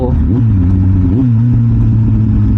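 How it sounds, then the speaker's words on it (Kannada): A loud Kawasaki Z800 inline four-cylinder motorcycle engine revs sharply twice, then settles into a throbbing, steady idle close by. "4 ಸಿಲಿಂಡರು ಸೌಂಡ್ ಕೇಳೋದೇ ಒಂದು ಮಜಾ"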